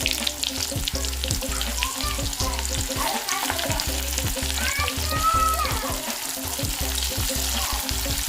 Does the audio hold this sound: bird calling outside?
no